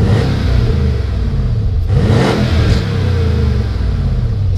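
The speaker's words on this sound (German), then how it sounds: "Ich starte jetzt direkt mal im Sport Plus Modus, natürlich mit offener Klappe." A Mercedes-AMG E63 S Edition 1 with a Capristo exhaust, valve open in Sport Plus mode, revs hard close by: a loud, continuous deep engine roar rising and falling without talk.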